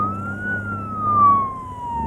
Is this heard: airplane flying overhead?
no